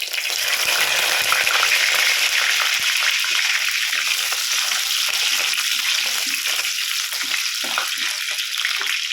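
Garlic frying in hot oil with fenugreek in a curry pot for fish curry, a loud, close, continuous hiss and sizzle that runs steadily throughout without pause.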